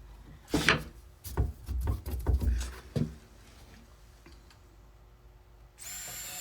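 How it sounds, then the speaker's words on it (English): A power drill whirs in several short bursts as screws bite into HardieBacker cement board on a stud in a shower, with clunks and handling noises, then quiet and a brief hiss at the end. "So now I'm drilling the Hardyback board into the stud"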